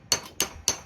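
Three sharp metallic hammer strikes at an even pace, knocking copper windings out of an electric motor being scrapped; close, loud and dry, with no talking.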